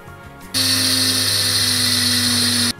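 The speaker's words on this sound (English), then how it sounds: "Here we have 200 grams of poppy seeds and we are going to grind them." An electric grinder whirs loudly for about two seconds while grinding 200 grams of poppy seeds into a fine powder, a high steady motor whine that starts and stops abruptly, close by and alone.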